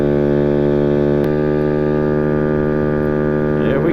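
A GY6 50cc 139QMB scooter engine fitted with a performance CVT kit holds a steady high-RPM drone with strong harmonic tones, loud and continuous throughout with a slight pitch shift near the end.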